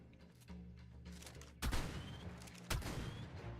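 Two sharp gunshots ring out about a second apart in ARK: Survival Evolved, each a crisp crack with a short tail, standing out over a quiet background hum.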